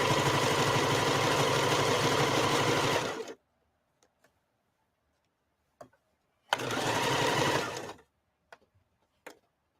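A home sewing machine stitches in two whirring bursts, one about three seconds long and a shorter one later, with faint mechanical ticks and clicks in the quiet gaps between.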